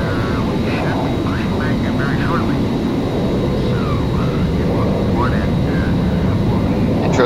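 Airliner jet engines in Flight Simulator X spool into a loud, steady broadband roar that holds for the whole stretch, with faint voices chattering over it.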